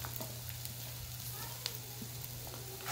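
Garlic, onion and curry leaves fry in a pan for bitter gourd gojju, giving a steady, quiet sizzle with faint crackles throughout and soft speech under it.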